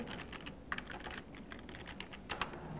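Rapid keyboard typing with uneven clicks and a few louder keystrokes, close and clear with no voices.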